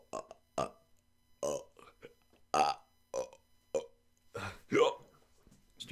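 A person burps out a string of short, close, voiced belches in a rhythmic sequence, imitating the Super Mario tune, with brief gaps between each burp.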